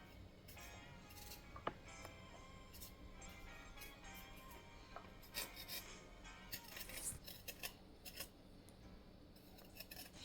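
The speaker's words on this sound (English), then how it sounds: "just scraping my ginger" Fresh ginger root being scraped by hand in a kitchen while making a Jamaican papaya ginger lemon drink, a faint, continuous raspy scratching with small irregular strokes and light clicks, close and quiet.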